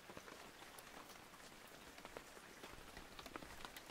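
Heavy rain pours outside onto surfaces around a sheltered outdoor cooking spot, a dense, continuous patter of drops with scattered sharper splashes, steady and enveloping but fairly quiet.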